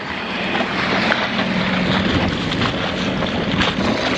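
Outboard-powered dinghy running across open sea water, a steady loud engine drone mixed with wind buffeting and wave wash, continuous and close throughout.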